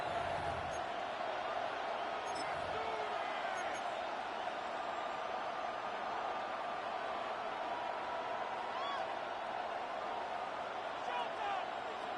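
A football stadium crowd at a Saints versus Lions game roars steadily and continuously, a dense wash of cheering and whoops heard from within, with an announcer's voice over it.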